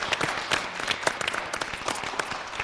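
A small audience claps to welcome the painter Hrair Ghazarosyan, a fairly quiet, even patter of hands with a few sharper individual claps standing out.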